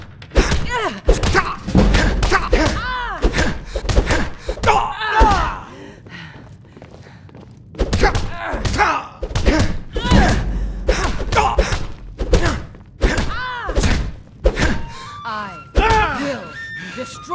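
Punches landing in a Skyrim fist fight, a burst of heavy thuds and thumps in quick succession, then a short lull before another run of blows, with grunting voices and speech mixed in.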